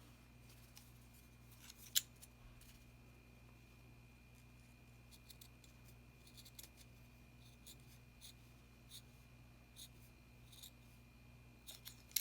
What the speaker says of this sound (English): take the ribbon, fold it, bring it in, and then give it a slight cut